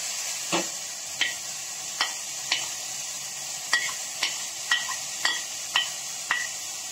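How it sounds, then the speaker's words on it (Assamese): Ginger-garlic paste frying in a pan, a steady bright sizzle broken by regular scraping strokes of a spatula, close and alone without talk. "অকমান সময় ভাজি থাকিম আদা নহৰু গন্ধ নোযোৱালৈকে"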